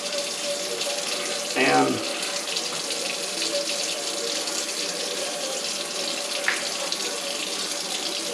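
Running water from a tap rinses black powder residue out of a revolver in a constant, fairly loud splashing rush, with a brief sweep of handling noise early on and a short word spoken.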